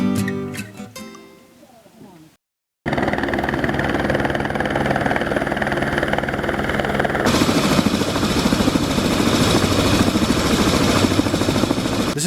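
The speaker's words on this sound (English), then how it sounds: "This is the final helicopter that's moving into Kathmandu." A helicopter heading toward Kathmandu runs as a loud, steady engine and rotor drone after a brief silence, growing broader and noisier toward the end.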